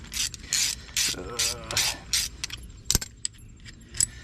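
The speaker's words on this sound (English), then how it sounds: "You take this bolt out. Once I get it out, I'll show you what I mean." Mechanic removing a bolt while fitting an angle kit to a BMW E36 steering setup, with quick ratchet clicks, metallic jangles and tool knocks at close range, busy and uneven, then sharper isolated clinks toward the end.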